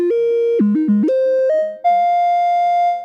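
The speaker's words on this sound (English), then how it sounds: "We get these just really immediately useful leads and bass type sounds" Moog Source analog synthesizer with oscillator sync playing a monophonic line, stepping between low bass notes and higher lead notes with bright buzzy harmonics, loud and close with no talking.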